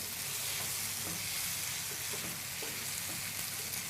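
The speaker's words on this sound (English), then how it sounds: "And you just stir it in your frying pan" Tofu being stirred with satay sauce in a frying pan, giving a steady, close sizzle and soft scraping that runs throughout without any talk.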